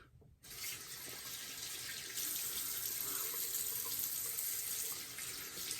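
Steady running tap water splashing into a sink while rinsing the face after a shave, a continuous close hiss that swells slightly partway through, with no talking.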